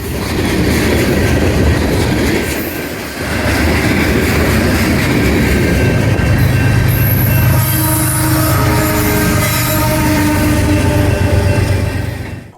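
A loud CSX freight train led by locomotives 4720 and 1776 rumbles past close by, steady heavy rolling with metallic wheel squeals and clanking cars, no voices.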